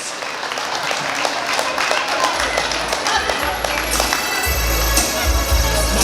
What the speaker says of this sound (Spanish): que se escuchen fuertes los aplausos, señoras y señores, para los novios